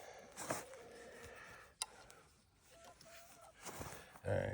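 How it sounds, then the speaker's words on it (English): Backyard chickens clucking nearby during outdoor work on track sections, with short bright calls scattered across a few seconds among low ambient noise and a sharp knock partway through. "I was laughing at the chickens."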